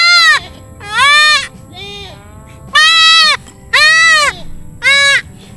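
A goat bleats loudly and close by, giving about six sharp, wavering calls in uneven bursts with brief pauses between them on a farm.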